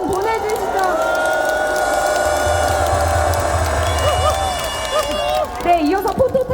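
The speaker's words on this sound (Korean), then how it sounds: "큰 박수와 함성 다시 한번 보내주시죠." A large crowd at an outdoor political rally cheers, whoops and applauds in a long, steady roar, with voices and amplified sound mixed in before the noise breaks up near the end.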